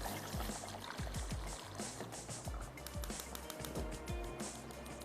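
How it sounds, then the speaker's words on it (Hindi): About a cup of water pours steadily into a pot of aab gosht, a continuous splashing gush with bubbling glugs, close and fairly quiet. "पानी ऐड कर देते हैं"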